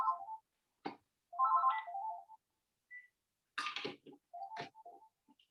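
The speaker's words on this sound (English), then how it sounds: "phone just going off in the background" A phone rings in the background as a series of short melodic tone bursts separated by silences, with a few sharp clicks in between, fairly quiet and with no talking.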